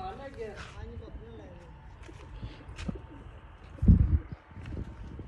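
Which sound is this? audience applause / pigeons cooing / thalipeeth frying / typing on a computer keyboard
pigeons cooing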